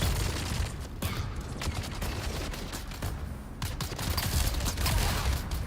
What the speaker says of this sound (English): Too many guys shooting.